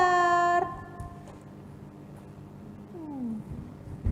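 A child's new pet cat gives a clear meow at the start, followed by a softer, falling meow a few seconds later in a quiet room.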